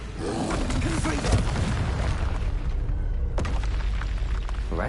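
A Confringo blasting spell explodes in Hogwarts Legacy with a heavy booming burst and rumbling roar, followed by a second sharp blast, the low-end rumble sustained throughout.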